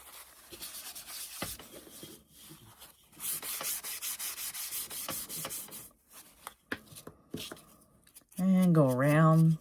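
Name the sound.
wiping back paint on a primitive angel figure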